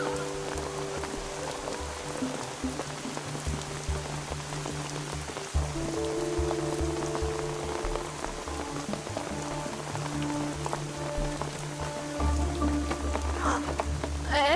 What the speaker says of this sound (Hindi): लगता नहीं बारिश जल्दी रुकेगी।